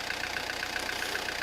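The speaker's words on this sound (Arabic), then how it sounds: "ولو تسمعوا فيه الصوت هذا متاع المحرك" A Peugeot Partner 1.9 diesel engine runs with a loud, steady idle and a regular rhythmic knock, heard up close on its own for a brief moment.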